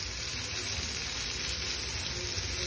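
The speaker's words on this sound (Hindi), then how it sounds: "अब इसे 2 मिनट और फ्राई करेंगे मीडियम फ्लेम में।" Prawns sizzle in a hot pan over a medium flame with a loud, even hiss and fine crackle, close up and steady with no speech.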